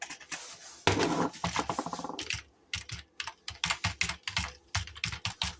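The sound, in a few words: typing on a computer keyboard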